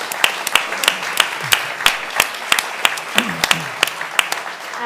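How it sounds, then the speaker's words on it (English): An audience at a talk on the search for better treatments applauds, giving sharp, distinct individual claps at a steady pace, close and clear, with a voice speaking faintly underneath. "I think we should give a round of applause to Andy."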